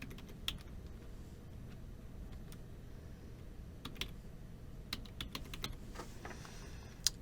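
Typing on a computer keyboard to enter a web address, with scattered quiet key clicks in short bursts over a low background hum, no voices.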